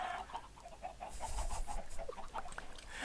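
Chickens in a Minecraft Skyblock world cluck in quick, repeated bursts, several birds overlapping in a busy, continuous flurry of short calls over a faint background hiss, with no talk.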